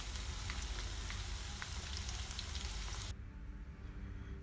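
Marinated chicken pieces frying in hot oil for chicken biriyani, a dense, steady, loud sizzle throughout that drops to a softer crackle near the end, with no talking.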